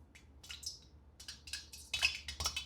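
Water dropped into hot frying oil for fish and chips, giving a run of sharp, crackling pops and sizzling bursts that come close and fairly loud, thickest near the end.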